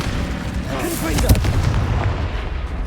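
A Confringo explosive spell blast from the Hogwarts Legacy video game, a loud booming burst amid continuous battle noise, with a sharp peak partway through and a shout underneath.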